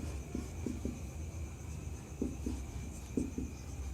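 Writing strokes during a Class 12 physics lesson on quantum theory, a quiet, close scratching in short clustered bursts with pauses, over a faint steady room hum.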